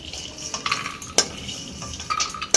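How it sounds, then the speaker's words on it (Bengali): Fox nuts (makhana) frying briefly in a little oil in a pan bring a few sharp metallic clinks and scrapes of a utensil over a faint sizzle, close and without talk. "শুধু মাখনাটাই আমি হালকা তেলের মধ্যে ভেজে নেব"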